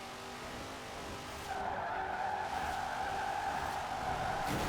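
A car in the video game Forza Horizon 4 skids with a steady tire squeal while its engine holds a high, sustained roar as it accelerates, loud and continuous throughout.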